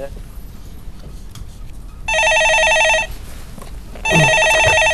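A telephone rings twice on a Korean stock-market call-in show, each ring a loud electronic burst of about a second with a short gap between, over quiet studio background.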